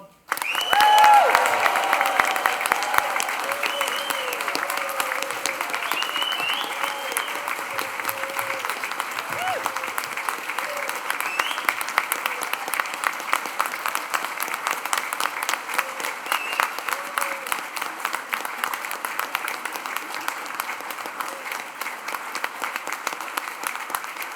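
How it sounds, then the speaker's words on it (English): A large crowd at a graduation ceremony claps and cheers loudly and steadily for a long stretch, with whoops rising over the sustained applause. "let's raise the roof with a huge cheer and round of applause for our graduates"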